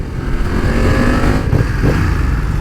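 A BMW F900XR motorcycle engine hums close by in a low, throaty drone, with wind rushing and a slight rise in pitch as it gathers speed.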